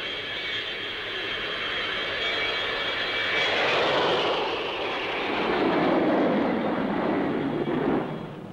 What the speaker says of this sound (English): Another easy handler is the Folland Gnat, a single-seater lightweight designed as an interceptor and strike fighter.